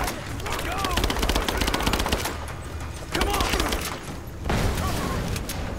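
Bursts of machine gun fire in the video game Rise of the Tomb Raider, loud sustained volleys with brief pauses between them, with a little talk from a player in the background.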